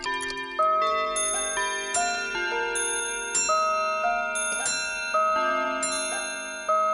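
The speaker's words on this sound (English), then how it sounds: "all the clocks started to chime one after another" Many clocks chiming one after another, overlapping bell-like tones starting in turn and ringing on in a dense, sustained cascade with no voices.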